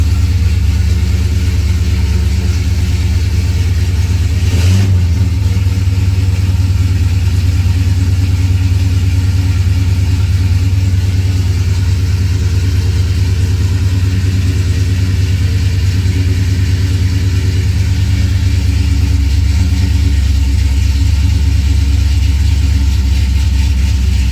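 A car engine runs steadily after being started, a constant loud low rumble at idle with no talk, continuing unchanged throughout.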